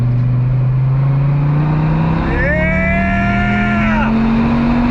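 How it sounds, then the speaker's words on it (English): A 2006 Dodge Viper SRT10 V10 drones steadily, then blips sharply during a heel-toe downshift, its revs rising and falling in a loud, close whine before the engine note settles again. "That heel toe downshifting."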